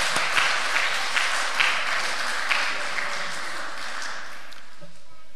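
A church congregation applauding during a Sunday service, with dense clapping that starts strong and gradually thins out and fades.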